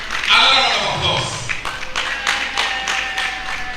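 Applause from an audience at a commemorative lecture, scattered claps rising under a voice and a sustained tone, fairly loud in a reverberant hall.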